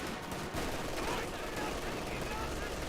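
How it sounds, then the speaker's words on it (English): An MG42 machine gun rattles in Company of Heroes 2 as a steady burst of automatic fire, moderately faint and continuous over the whole clip, beneath a busy battlefield mix. "MG42 finds all those units there."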